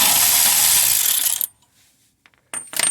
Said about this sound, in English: we can take the axle nut the rest of the way on